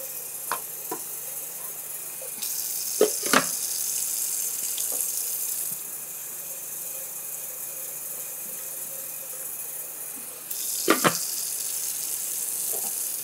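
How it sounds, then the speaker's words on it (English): Cooked pasta being rinsed in a strainer under cold tap water in a kitchen sink: a steady rushing stream runs throughout, rising louder twice as the flow changes, with a few clattering knocks of the strainer. "You do want to rinse these off in cold water."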